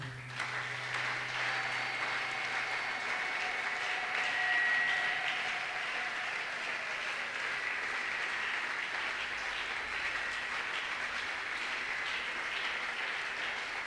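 Congregation at a revival service claps and acclaims the Lord, sustained dense applause lasting throughout, with a soft sustained tone underneath and little talk.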